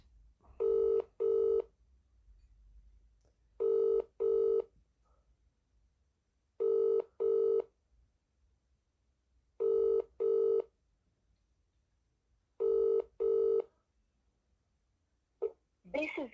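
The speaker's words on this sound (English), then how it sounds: "Ring up Christopher Browell." A UK mobile phone call ringing out on the Vodafone network, with five evenly spaced double rings and quiet pauses between them, clear and alone.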